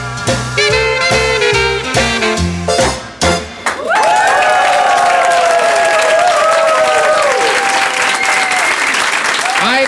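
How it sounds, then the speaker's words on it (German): A live audience at a podcast recording in a basement venue at Dussmann breaks into loud, sustained clapping and cheering that fills the room, following a short burst of jingle music at the start. "Herzlichen Dank für diesen warmen Applaus."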